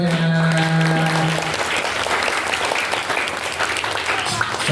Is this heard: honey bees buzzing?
no